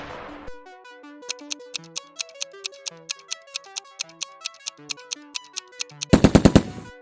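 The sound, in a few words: PARAFAL rifle gunfire in the video game PUBG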